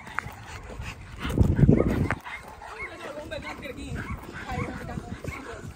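Dogs, including a pitbull and a chihuahua, yip and whimper amid rustling and voices, with a louder burst of excited barking and scuffling early on, then lighter movement noise.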